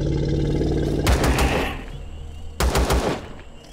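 Automatic weapon fire in the video game Empyrion: Galactic Survival, two loud bursts of rapid shots about a second and a half apart over a steady game ambience.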